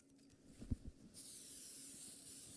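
Perfume sprays in a sustained bright hiss from a bottle, starting abruptly after a few soft clicks and continuing evenly to the end, close and fairly quiet.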